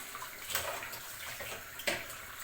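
Water rushing into a washing machine, a steady splashing hiss with a couple of louder surges, close by and with no talking.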